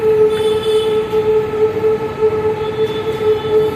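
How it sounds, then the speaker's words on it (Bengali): A loud, continuous rumble of a metro train on a trial run passing overhead, with a steady metallic whine and rolling wheel noise, no voices. "ওপর থেকে মেট্রো যাচ্ছে, ট্রায়াল নিচ্ছে ওরা"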